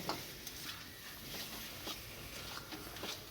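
Spice mix is stirred by hand into raw meat while home-cooking a village lunch: faint, soft scraping and mixing with a few light clicks, steady and quiet, with no talk.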